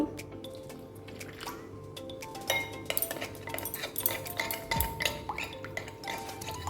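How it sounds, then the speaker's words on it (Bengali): A little water goes into a bowl of cornflour while mixing vermicelli cutlet batter, heard as soft, faint drips and wet clinks against the bowl, quiet and close. "এখন দিয়ে দিচ্ছি একটু জল।"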